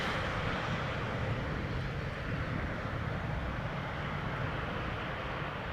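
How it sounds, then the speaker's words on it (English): Embraer E2 jet arriving at Schiphol Airport from Bologna, a steady broadband engine roar that holds at an even level throughout, distant and continuous with no talk. "E2 Embraer arriving from Bologna"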